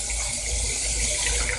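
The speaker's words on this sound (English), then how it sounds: "of course, you're going to put just enough water" Water pours steadily into a cooking pan set beneath a steamer, a continuous close splashing rush with no voices.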